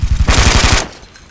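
A gun fitted with a 60-round bullet drum fires in the shooter game Brink, a loud rapid burst of about eight closely spaced shots over roughly half a second, then a short ringing tail.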